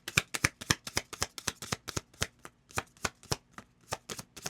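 A deck of oracle cards is shuffled by hand in a fast, regular run of crisp riffling slaps, close and clear, about three or four per second with no talk.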